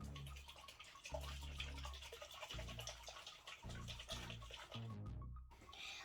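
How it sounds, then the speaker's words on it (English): Water sloshes and rattles inside a bottle with tie-dye powder as it is shaken vigorously in repeated bursts, close up, with a brief pause near the end. "We're going to give it a shake with the water in."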